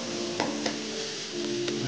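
Rösti with onions and bacon frying in a pan, a steady soft sizzle with a few light stirring clicks, close and alone.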